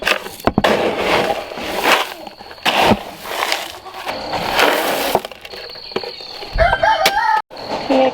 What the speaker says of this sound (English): Oh shoot, the rooster.